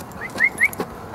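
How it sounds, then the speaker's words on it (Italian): A dog whimpers in a few short, high-pitched whines, close and fairly soft, with two clear squeaky cries in quick succession. "Ehi, questo è il mio cane."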